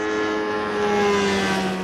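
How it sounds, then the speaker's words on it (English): Ultralight light aircraft flying over hot, rugged, rocky terrain in Zimbabwe, a steady droning propeller engine with a sustained tonal hum, fairly loud and close, with no talk. "Tricky flying conditions for a light aircraft."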